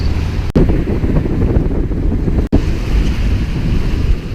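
Loud wind buffets the microphone aboard a sailing boat at sea off the south coast of England, with waves rushing steadily beneath and two brief dropouts breaking the constant roar; nobody speaks.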